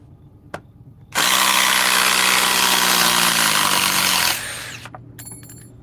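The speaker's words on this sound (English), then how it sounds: "let us see about removing these now with the Ryobi" A Ryobi cordless power tool whirs steadily for about three seconds while removing parts, starting abruptly and winding down with a falling pitch, alone and close.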